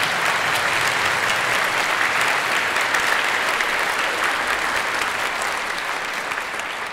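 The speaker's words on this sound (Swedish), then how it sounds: "Joel, en applåd till oss som filmar." Spring evening concert audience giving a round of applause, a full steady wash of clapping from many hands that slowly fades slightly toward the end, no voices over it.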